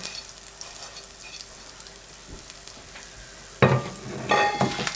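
Urad dal, pepper, dried chillies and asafoetida fry on a slow flame, giving a soft steady sizzle, with a louder burst of crackling and stirring near the end, close by and without speech.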